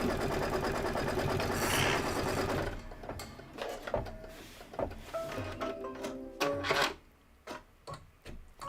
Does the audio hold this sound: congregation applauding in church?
no